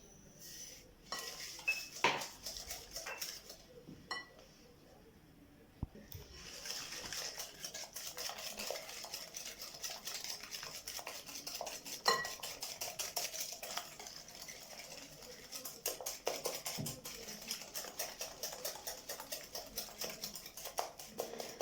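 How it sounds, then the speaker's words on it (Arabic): Sugar and eggs whisked in a bowl for small cakes, a rapid continuous run of light metallic clicks and taps against the bowl, quiet and close, after a short pause near the start. "نطرب سنيده مع البيض مزيان."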